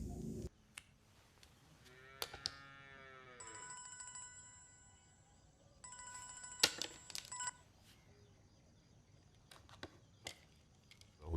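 Mobile phone ringing in an Indian film, a steady electronic ringtone with sustained tonal notes repeating in two stretches, punctuated by sharp clicks and knocks, with no talk over it.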